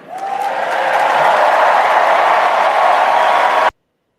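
Convention crowd applauding at a Democratic National Convention, a dense, loud, steady wash of clapping that holds for several seconds and then cuts off abruptly.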